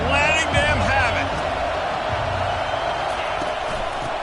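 A stadium crowd roars in an NCAA 25 college football game during a Clemson dynasty, a dense and steady wall of noise that holds throughout. A voice rises briefly at the start.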